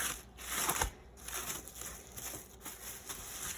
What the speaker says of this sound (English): Okay, so this is our croissant dough. I'm going to unwrap this.